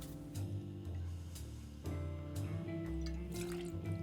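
Peach liqueur pours into a cocktail glass for a Superman cocktail, a soft liquid trickle and drips heard close over a steady music bed.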